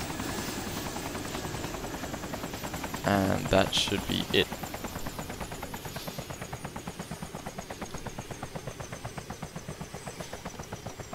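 A broken helicopter's rotor in DayZ on Arma 2 Operation Arrowhead keeps spinning after the engine is switched off, a steady rhythmic whump-whump throughout. A brief louder burst comes early, and someone says a few words.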